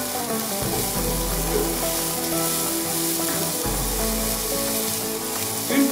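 Onion frying gently in a pan, a continuous close hiss and crackle of sizzling with a faint low hum beneath, steady throughout with no voice.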